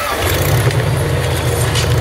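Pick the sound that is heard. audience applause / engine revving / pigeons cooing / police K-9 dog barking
engine revving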